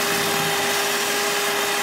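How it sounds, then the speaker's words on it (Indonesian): An electric mixer beating sticky rice sponge cake batter gives a loud, steady motor whine with a constant hum, close up and uninterrupted. "Saya mixer dulu ya, teman-teman."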